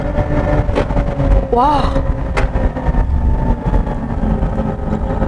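A Hyundai Ioniq 5 N runs a long slalom course, a steady drive rumble with tyre and road noise and a brief rising-falling squeal, while a person speaks over it.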